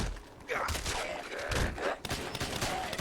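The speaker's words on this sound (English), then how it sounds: "I want to say, it sounds good when you shoot it." Type 4 Garand rifle gunfire in the game Fallout 4, several rapid shots in quick succession with sharp reports and echoing tails, fairly loud throughout.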